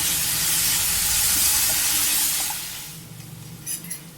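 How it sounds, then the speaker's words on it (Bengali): Ginger paste, chopped onion, tomato, two garlic cloves and green chili frying in hot oil for Amritsari paneer bhurji, a loud steady sizzle that fades after a few seconds into faint clinks. "আদা বাটা, এরপর চপ করে রাখা পেঁয়াজ, টমেটো, 2 কোয়া রসুন আর কাঁচা লঙ্কা ভাজতে থাকবো।"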